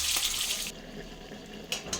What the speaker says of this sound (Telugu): ఇప్పుడు ఉడికించిన పొట్లకాయ ముక్కల్ని నీళ్ళు వంపేసుకుని వాడేసుకున్నామండి